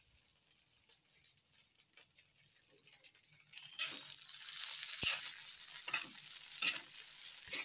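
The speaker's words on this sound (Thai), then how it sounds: "เดี๋ยวเฮ็ดข้าวผัดให้เพิ่นกินก่อน" Fried rice being stir-fried in a pan: a soft sizzle builds into steady, louder frying with scraping and stirring strokes from about midway, including one sharp clank.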